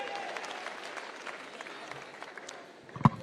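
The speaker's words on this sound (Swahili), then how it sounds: "Makofi kwa mheshimiwa tena." An audience at a Safina Party national delegates conference at the Bomas of Kenya in Nairobi applauds an honourable speaker, steady moderate clapping with a sharp knock near the end.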